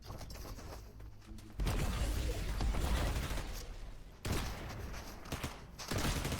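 Bursts of rapid gunfire in Fortnite crackle through a busy battle soundscape, two dense volleys at loud, steady level separated by a brief lull, with quieter ambient game noise between them.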